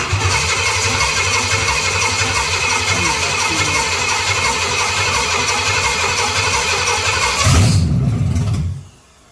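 A restored 1969 Pontiac GTO V8 starts for the first time. A loud, close engine churns with a pulsing, lumpy rhythm, surges briefly near the end and then cuts off abruptly to near silence.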